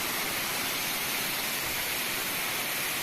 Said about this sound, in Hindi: आप देखोगे ऊपर पहाड़ों के अंदर से जल आ रहा है और सीधा नीचे